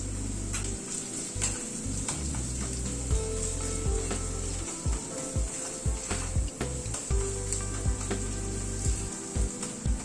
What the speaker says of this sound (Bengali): মশলাটাকে একটুখানি হালকা করে নাড়াচাড়া করে নিচ্ছি